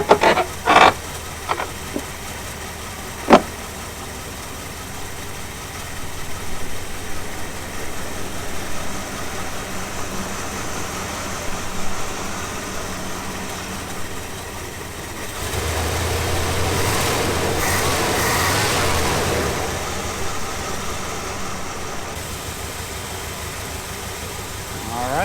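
Engine of an old Chevy truck, stuck in the woods, running at a steady idle for a long stretch, with a few sharp knocks early on and a rougher, louder patch later on.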